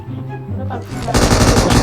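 Loud, rapid automatic gunfire in a shooting video game bursts in after a second of quieter game sound, a dense continuous rattle close up.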